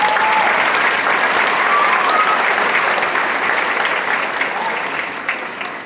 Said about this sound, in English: So round of applause for you.